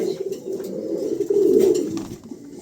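Pigeons at a bird market coo softly and continuously in low, rolling, throaty calls, close by with faint chirps in the background.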